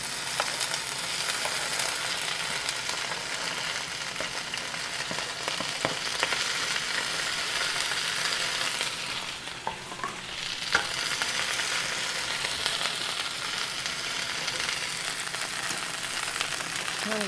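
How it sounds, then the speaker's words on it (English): Okra sizzles steadily in warm olive oil in a skillet, a continuous loud fry with a brief dip midway as the pieces are stirred. "Now the olive oil is warm, so now we're going to go ahead and add the okra to the skillet."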